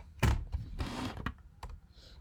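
Typing on a computer keyboard during a programming session, a few short bursts of key clatter with brief pauses, close and fairly loud, no talking.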